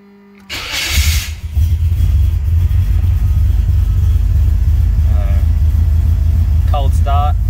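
Cold start of a VL turbo Commodore engine with a new fuel pump: a brief cranking churn, then the engine catches and settles into a steady, loud, rumbling idle, with a voice briefly heard near the end.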